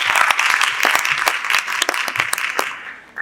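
Conference audience applause on the second day of a languages conference, a fairly close, busy patter of individual claps that carries on steadily and tapers off near the end.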